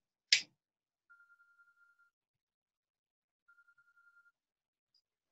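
Phone ringing in a quiet room, two short bursts of a soft trilling electronic ring separated by a pause, preceded by a brief sharp click.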